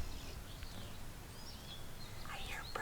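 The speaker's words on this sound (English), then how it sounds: "I hear birds chirping." Faint, distant birds chirping in short scattered calls over a steady low background hiss, soft and sparse throughout.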